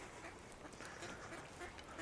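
Ducks at an old village duck pond in Old Hunstanton give faint, distant quacks that overlap over a couple of seconds against outdoor background noise.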